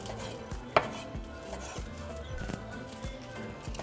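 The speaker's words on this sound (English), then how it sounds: "And then into small pieces." A knife chops cooked meat into small pieces for Mexican street tacos, a quick series of close, rhythmic thuds on a cutting board, one sharper knock near the start, moderately quiet.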